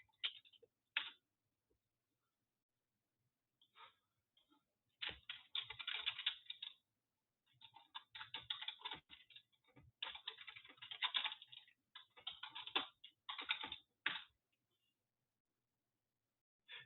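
Typing on a computer keyboard: close, quiet clusters of key clicks in irregular bursts with short pauses between them, heard alone without talk.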